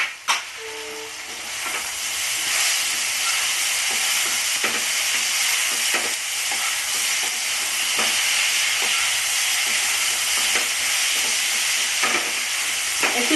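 Kochur loti with shrimp and chilli paste fries in a pan over a medium gas flame, giving a steady close sizzle and hiss. Scattered clicks and scrapes of stirring run through it, with no talking.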